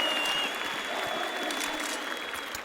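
Turkish esports crowd at BLAST Pro Series Istanbul 2018 applauding and cheering for Space Soldiers in a large arena, a dense steady roar of clapping throughout, with faint commentary underneath.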